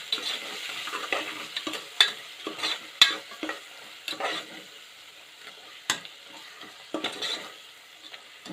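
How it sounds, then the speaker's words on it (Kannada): Garam masala and turmeric are stirred into a frying pan for Indian tomato bath, with a soft sizzle under repeated scraping strokes of a spoon at an uneven rhythm, close and fairly quiet, with no talking. "ಅರಿಶಿನ, ಇಷ್ಟನ್ನು ಹಾಕಿ ಚೆನ್ನಾಗಿ ಮತ್ತೆ ಮಿಕ್ಸ್ ಮಾಡ್ಕೊತಾ ಇದ್ದೀನಿ."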